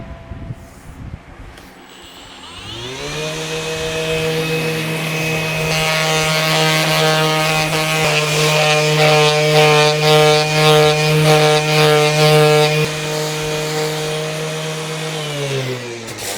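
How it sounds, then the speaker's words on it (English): Rough sanding of a wooden rocker cradle with 60-grit paper using a power tool, a loud steady machine whine that spins up after a couple of seconds, holds for about twelve seconds with a grinding rasp, then winds down. "I'm gonna rough sand this. Yeah, well, it's rough hard. Sand it down with 60."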